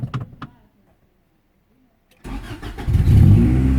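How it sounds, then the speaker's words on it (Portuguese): A 1995 Honda Accord engine cranks and catches after a quiet pause, then settles into a steady, fairly loud idle close by; a few brief clicks and knocks come before the start. "O carro pegou, 0 bala."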